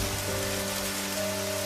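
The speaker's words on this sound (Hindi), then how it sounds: "अगर ये बारिश ऐसे ही चलती रही तो हम खाएंगे क्या?" Heavy rain pours steadily in a flood-like downpour, a dense continuous hiss with faint tonal hum beneath and no voices.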